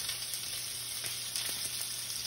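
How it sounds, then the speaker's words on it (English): Butter sizzles in a hot frying pan for garlic butter shrimp, giving a soft, even hiss with faint crackles, quiet and steady, with no talking. "So put some butter in this frying pan."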